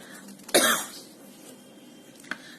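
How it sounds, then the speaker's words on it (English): One sharp, close cough bursts out, trailing off briefly, followed about two seconds later by a much shorter, fainter cough against quiet room noise. "Sorry for my incessant coughing"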